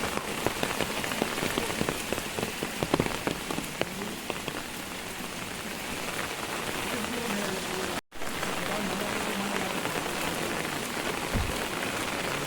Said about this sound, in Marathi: तिकडे पाऊस जोरात पडता